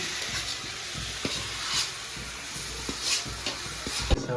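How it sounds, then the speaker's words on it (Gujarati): Potato masala for vada pav is stirred and mashed in a hot pan, a steady sizzling hiss with irregular soft thuds and scraping strokes close by, and nobody speaks. "બટેકા મસાલો બધો મેશ થાય છે નહીં"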